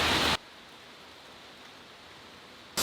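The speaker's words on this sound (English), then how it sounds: "Can you believe all this rain?" Steady, even hiss of rain, broad and constant, with louder bursts at the very start and end.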